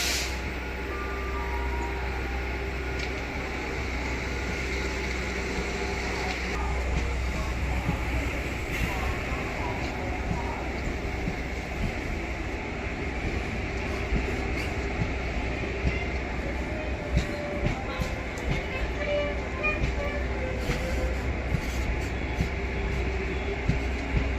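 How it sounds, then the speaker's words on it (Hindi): A passenger train on the Bandikui–Bareilly route pulls out of Bandikui junction, its low steady rumble and rail noise continuing throughout, with scattered voices and station bustle mixed in. "खुल चुकी है अपनी पैसेंजर ट्रेन बांदीकुई"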